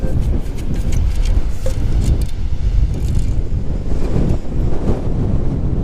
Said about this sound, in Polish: wiatr wieje cały czas